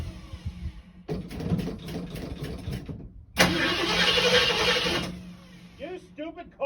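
A 2005 Ford Expedition XLT's engine cranks for a couple of seconds, pauses, then gives a louder, steadier burst of engine noise up close, with a voice audible around it.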